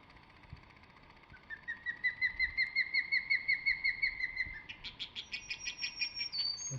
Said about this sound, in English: And the white-throated sparrows.